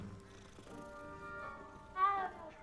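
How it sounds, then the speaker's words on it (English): A cat meows in Hogwarts Legacy, one short rising tonal call standing out near the end over a soft game ambience with a faint steady musical drone. "There's a cat."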